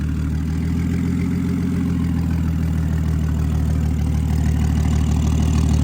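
A BMW F10 535i fitted with a DIY big turbo kit idles steadily just after its first startup, giving a loud, continuous low engine rumble at close range with no talk.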